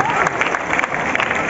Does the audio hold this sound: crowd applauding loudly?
yes